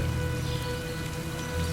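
Steady rain falls in a mountain village near Espot, a dense even patter with a low continuous hiss, close and unbroken.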